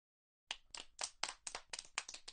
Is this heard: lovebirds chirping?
no